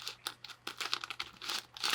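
Rhombic Tuttminx twisty puzzle turned and shuffled by hand, giving rapid clustered plastic clicks and crinkly rattles in irregular bursts, close and fairly quiet with no talk.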